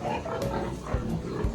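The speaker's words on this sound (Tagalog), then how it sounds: "How are you, pig? Baby pig?" A baby pig on a family farm grunts low and soft, a few short rough snorts over a steady background murmur.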